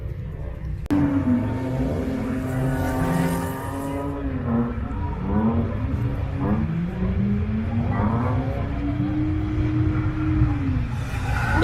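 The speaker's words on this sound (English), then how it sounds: "Let's peep the drifting real quick." A Nissan Silvia drifts on a skid pan at a drift event, its engine droning and revving steadily with rising and falling pitch sweeps, loud and continuous, with a sharp crack near the start.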